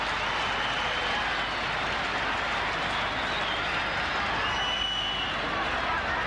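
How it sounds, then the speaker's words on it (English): Applause from a rugby league crowd and the Penrith bench as Manly player Des Hasler leaves the ground during a 1985 playoff, a steady dense wash of clapping and crowd noise throughout. "Even the Penrith bench was there to applaud Des Hasler as he left the ground."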